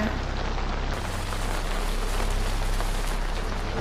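Steady rain pours down in muddy woods, a dense, even hiss of drops striking the ground that carries on unbroken throughout, with no voices.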